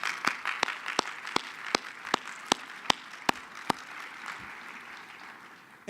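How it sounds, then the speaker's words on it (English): Audience at a national leadership forum graduation applauds the keynote speaker, soft background clapping from the crowd punctuated by a series of sharp, louder individual claps near the microphone that stop before the end. "So let's give her an applause before I even introduce her."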